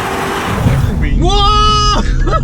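An older grey used car with an Alcantara interior, bought as a budget project, accelerates hard up close; a rough engine roar builds under a loud voice exclaiming over it.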